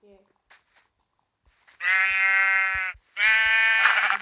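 A sheep in a video game lets out two long, clear bleats close up, with a short gap between them, after a few faint clicks and soft sounds.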